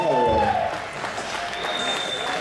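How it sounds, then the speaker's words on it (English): Crowd applauding at a kickboxing event, a burst of clapping that fades while an announcer's amplified voice carries over it, with some faint tonal noise in the hall. "Let's give him a big round of applause."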